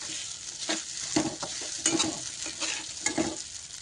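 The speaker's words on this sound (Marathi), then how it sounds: "शेंगदाणे जळायला नको खाली म्हणून शाबुदाणा पटकन घालून घ्यायचा आहे गॅस कमी ठेवायचा" Sago goes into peanuts frying in a pan over low heat and gets stirred briskly. Close, rhythmic spatula scrapes and clinks sit over a steady sizzle.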